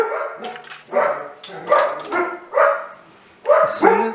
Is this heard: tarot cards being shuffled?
no